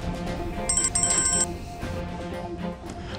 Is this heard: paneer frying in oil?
no